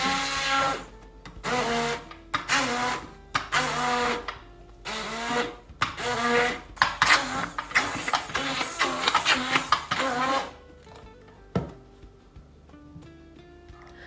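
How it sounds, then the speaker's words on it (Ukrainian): An electric blender whips a cottage cheese filling with vanilla sugar, regular sugar and sour cream, running loud in repeated bursts with short pauses between, then falling quiet near the end. "і збиваємо все блендером."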